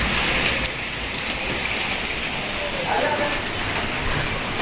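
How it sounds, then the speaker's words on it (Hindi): Large hailstones pound a roof in a heavy storm, a dense, steady drumming and hiss that runs unbroken throughout, with a voice speaking faintly underneath. "जो छत पे भी आवाज़ें आ रही है ओले पड़ने की"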